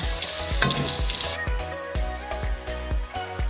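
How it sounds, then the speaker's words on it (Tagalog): Garlic, onion and ginger aromatics dropped into hot oil for laing, a loud close sizzle that settles into steady frying with rhythmic stirring scrapes, and no talking. "Ilalagay na natin ang ating aromatics. Bawang muna. Sibuyas. Then, luya."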